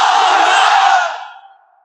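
A large crowd at an Islamic sermon shouts the takbir in unison, a single loud massed cry that holds for about a second and then trails off.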